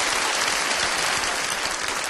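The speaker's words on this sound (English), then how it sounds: "give a round of applause." A crowd applauds, with dense steady clapping filling the whole moment.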